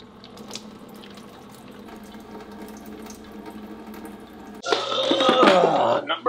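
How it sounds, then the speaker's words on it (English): GFO filter media for a saltwater aquarium is rinsed with RODI water: a quiet stretch gives way to loud, splashing running water filling a container, with faint talk in the background. "Rinse her out with some RDI water."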